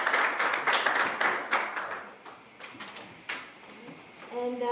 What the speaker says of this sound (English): one last round of applause for excellence